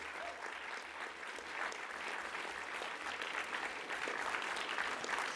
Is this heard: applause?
yes